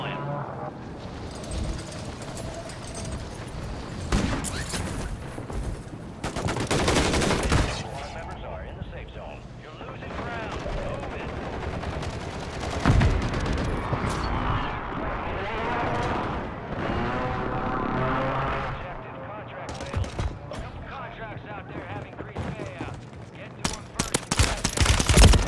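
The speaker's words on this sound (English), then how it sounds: "There's another one shooting heavy from the window." Heavy gunfire in the Call of Duty Warzone video game, with long bursts and sharp shots at close range, loud over constant game noise and sound effects.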